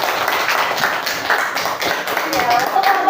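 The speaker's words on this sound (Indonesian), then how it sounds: "Oke, tepuk tangan dulu untuk kelompok 1." A classroom full of students claps for group 1 during an Indonesian school lesson. The applause is dense and steady from start to finish, close and fairly loud, with voices mixed into it.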